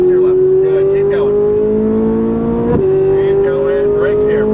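A Ferrari 458 on a race track accelerates hard, its engine note climbing steadily before a quick gearshift drop and another rising pull, loud and close, with a voice coaching over the engine.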